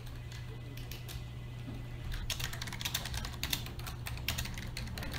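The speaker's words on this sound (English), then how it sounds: "Damn, she's fast at a keyboard." A game character types rapidly on a computer keyboard in Morph Girl, a steady stream of fast key clicks that grows busier and louder partway through, over a constant low hum with no talking.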